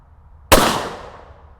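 A single sharp rifle shot from a Ruger American Ranch rifle, sudden and loud after near silence, with a decaying echo tail fading over about a second.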